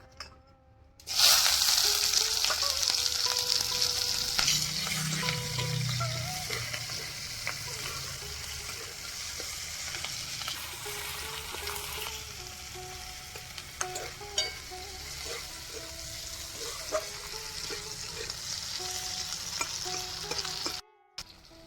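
Chopped onion frying in oil in a pan, a loud continuous sizzle that holds steady for around twenty seconds with occasional stirring scrapes and small crackles, close up and with no talking.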